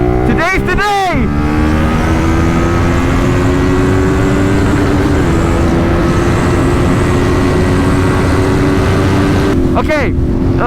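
A CfMoto 450SR motorcycle engine drones and climbs steadily in pitch as it accelerates at high speed, under heavy, constant wind roar, with brief rapid rev changes near the start and end.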